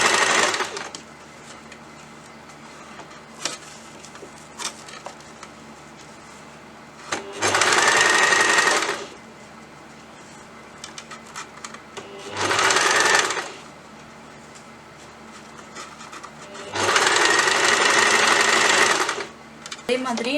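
A sewing machine stitches tulip sleeve piping fabric in three loud bursts of rapid whirring, separated by quieter stretches of handling sounds.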